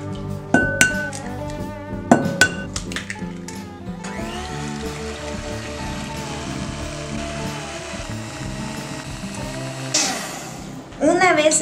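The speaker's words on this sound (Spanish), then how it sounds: "en otro recipiente batimos los huevos enteros" Whole eggs beaten in a bowl for banana bread, opening with a few sharp clinks against the bowl, then a long steady whirring beat from a mixer running loud and continuous, ending in a brief louder burst.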